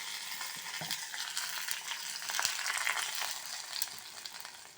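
Curry leaves and coriander crackle and sizzle in hot oil as a tempering for ivy gourd chutney, a steady close frying hiss with brief pops, loudest around the middle and easing toward the end.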